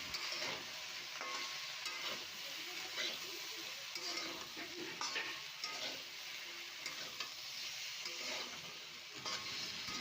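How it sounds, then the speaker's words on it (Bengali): Mixed vegetables for Bengali shukto, seasoned with salt and turmeric, sizzle steadily in a hot pan while a spoon stirs and scrapes them in repeated strokes, close up with no talking. "এবার সবগুলো ভালো করে মিক্স করে দেবো নাড়াচাড়া করে।"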